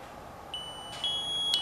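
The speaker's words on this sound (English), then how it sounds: "See, now it's going to pre-alarm." A Scott X3 breathing apparatus sounds its pre-alarm, a few faint high electronic beeps and a sustained tone over quiet background noise.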